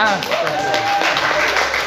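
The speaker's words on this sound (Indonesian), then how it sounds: "Beri tepuk tangan untuk kelompok 1 dulu ya. Mana tepuk tangannya, guys?" Students in a classroom clap for a presenting group, a scattered round of applause close by, with voices talking and cheering over the clapping.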